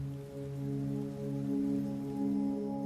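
Heavy rain heard as a steady, even hiss with a low hum running underneath, no voices present.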